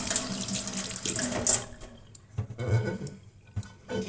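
Warm water runs from a tap and splashes into a sink for a moment, then cuts off, leaving quiet handling noises and soft clatter.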